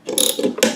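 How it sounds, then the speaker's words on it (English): A ratcheting wrench clicks in short bursts while turning the blade nut on a lawn mower, close and crisp, with a few rapid pawl clicks, alone. "I'm going to take my wrench and see how this stops the blade from spinning when I'm going to spin the nut."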